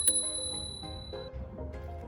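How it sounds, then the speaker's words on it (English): A bicycle-style bell on a Turboant X7 Pro electric scooter rings once with a bright metallic ding that rings on and fades, followed by softer tapping, close and clear with no talking. "Wanted to show you the really nice bell here."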